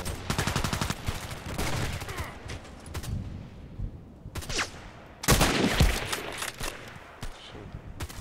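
Video game gunfire with a quick rattling burst at the start, then spaced single loud shots and a heavy blast cluster later, separated by quieter stretches.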